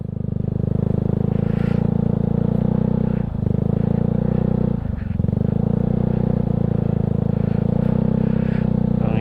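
A Yamaha Mio Sporty scooter rides through mud, its small engine droning steadily and loudly, with two brief dips in revs and some clattering from the bike.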